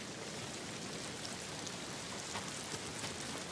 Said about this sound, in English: Not rinsed away by the rain either.